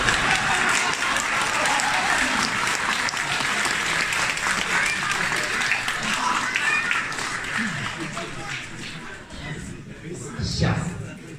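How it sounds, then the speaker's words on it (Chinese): A theatre audience at a crosstalk comedy show bursts into sustained, dense applause that stays loud for several seconds and then gradually thins out, with scattered voices and a few final claps. "齐刷刷的给我三秒钟掌声"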